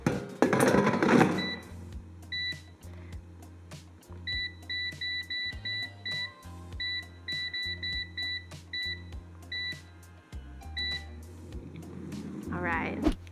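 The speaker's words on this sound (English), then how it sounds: "the shake reminder just beeped" A Cosori air fryer gives short, high electronic shake-reminder beeps in quick repeated bursts while cooking chickpeas, running over a low hum and light kitchen clatter.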